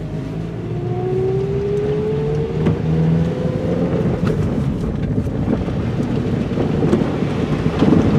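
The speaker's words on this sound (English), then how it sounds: "lay onto the gas, she just picks up and goes" A Toyota Corolla wagon on new snow tires pulls away under throttle, its engine note climbing steadily at close range. A rumbling, wind-buffeted background sits underneath, and no one speaks.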